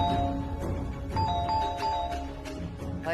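Doorbell chimes ring again and again at a house, a steady run of bright ding-dong tones over a busy background of music and room noise.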